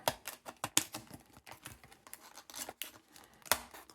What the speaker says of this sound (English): I've got some chunky scissors for this job.